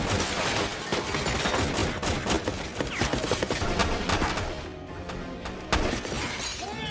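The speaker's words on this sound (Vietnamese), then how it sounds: "Một kẻ địch cầm súng trường tấn công G3 bắn các đội viên đang lục soát trong phòng thông qua tường gỗ." Gunfire from a G3 assault rifle firing 7.62mm rounds through a wooden wall during a film battle scene: dense, loud volleys of sharp cracks and splintering impacts packed close together over about seven seconds.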